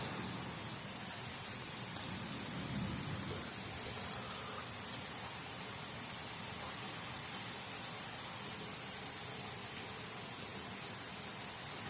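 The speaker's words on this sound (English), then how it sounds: "this is what we're getting in the St. Louis County region is rain, wind, lightning, and thunder." Steady broadband rush of a thunderstorm's rain and wind in the St. Louis County region, a constant even hiss at moderate level with no distinct thunder claps standing out over the twelve seconds.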